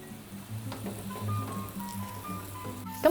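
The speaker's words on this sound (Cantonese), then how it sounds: "再煎佢2至3分鐘" Fish sizzling gently in oil in a pan while being pan-fried for fish assam, a soft steady crackle under low humming tones, with a brief utensil clatter at the end.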